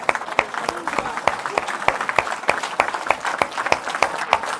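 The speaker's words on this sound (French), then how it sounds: "On acclame le Seigneur pour sa parole" A church congregation claps in a steady, lively rhythm, with many hands striking together at close range and no pause across the stretch.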